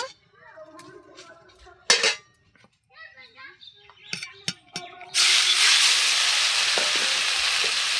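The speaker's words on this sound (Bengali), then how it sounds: "তেলটা গরম হয়ে গেছে এখন চিকেনটা দিয়ে দেব" Chicken pieces drop into hot oil in a wok, setting off a loud, steady sizzle that fills the last few seconds. Before it, a voice talks over clinks of utensils and pots.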